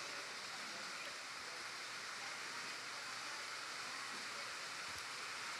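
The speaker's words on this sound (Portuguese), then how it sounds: "Essa chuva aí tem a ver comigo." Steady rain falls outside, a constant, loud broadband hiss that continues without a break and with no other clear sounds on top.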